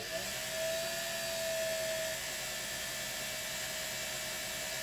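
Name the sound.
Singer 401A sewing machine winding a bobbin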